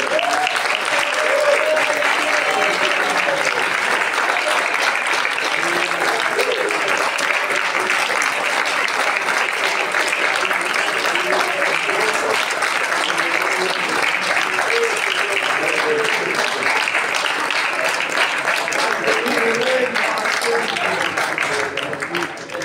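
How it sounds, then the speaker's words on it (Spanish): A church congregation applauds at a worship service, a dense, sustained roar of clapping lasting over twenty seconds, with voices cheering and calling out beneath it. "Y ahora le damos un fuerte aplauso a él."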